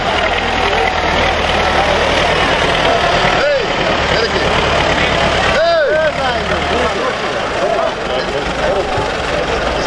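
A tractor engine runs steadily at a low, throbbing idle in a rural village courtyard in Urgut, with people talking and shouting loudly over it throughout.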